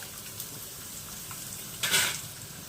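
Finely chopped onions fry in a pan with a steady, quiet sizzle and brief stirring scrapes, rising in a short louder burst near the end, with no talking.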